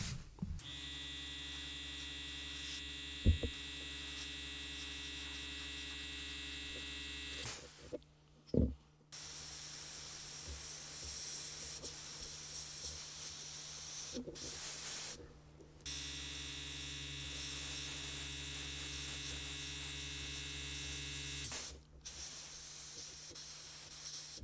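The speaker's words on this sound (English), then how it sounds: "draw the airbrush back a little bit and just blend that green colour into the black a bit more" An airbrush sprays green paint over black on a Kotare 1/32 Spitfire Mk1a model kit, making a steady, close hiss in long bursts separated by brief pauses, over a faint electrical hum.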